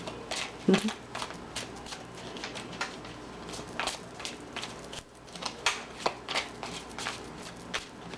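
A new tarot deck is shuffled by hand in repeated short bursts of riffling and card slaps, fairly quiet and close, with brief pauses between bursts.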